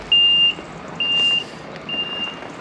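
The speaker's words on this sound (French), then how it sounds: "il y a quand même 3 camions comme ça qui arrivent. 3 6x4" Three long electronic reversing beeps from a 6x4 truck backing up to deliver limestone, evenly spaced and fairly loud over a low rumble of engine and ambient noise.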